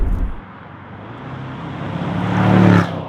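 A Range Rover SVR driving along a road, its engine droning steadily from inside the cabin and then swelling into a louder rising roar under acceleration before easing off.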